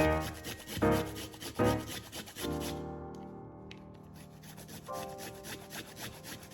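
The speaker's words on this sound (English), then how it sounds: "So I'm getting my grater here, and we're also going to cut the radish into smaller pieces" A radish being grated by hand on a grater, giving repeated scraping rubs at close range, a few strong strokes and then lighter, quieter scraping.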